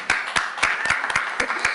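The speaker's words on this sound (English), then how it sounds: "that's a hand clap." Single person's hand claps at a college board of trustees meeting, about eight sharp, close claps in a quick irregular rhythm with no talking.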